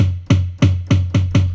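Five booming floor tom drum strokes at a steady pace, deep and close, each ringing out briefly before the next, with no voices.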